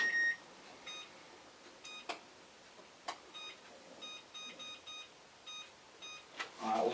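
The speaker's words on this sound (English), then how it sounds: "Set a timer over here." Kitchen timer being set while making pizza dough, giving a series of short, faint electronic beeps in an irregular rhythm, with a few clicks and soft rustling around them.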